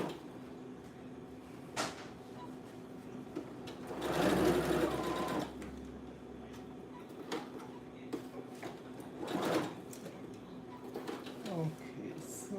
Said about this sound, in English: I gotta listen to that sewing machine.